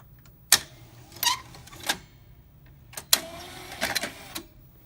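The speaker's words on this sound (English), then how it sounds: "So anyway, I'll operate the eject" A Sony U-matic VO-5800 videocassette deck ejecting a tape: a sharp mechanical clack, whirring and clunking of the loading mechanism, then a second burst of clattering as the cassette pops up, close and moderately loud.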